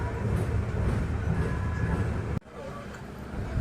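The Jan Shatabdi Express rumbles into Karnal railway station as a steady, loud interior roar of rolling wagons that drops suddenly and carries on lower, heard from on board.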